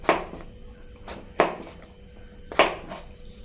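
Raw mango being cut into thin pieces on a board, four sharp knife chops spaced about a second apart, close and crisp, with no talking.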